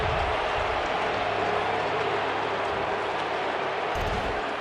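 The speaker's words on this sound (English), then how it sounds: "You can hear the reaction of the crowd." A baseball stadium crowd at a Pirates versus Reds game reacts to a close play replayed on the big board, a dense, continuous roar of voices and murmuring that stays loud and unbroken throughout.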